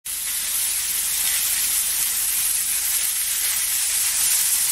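Pork chops searing in a hot pan, a loud steady sizzle with bright hissing spatter that starts abruptly and continues without pause; no voices.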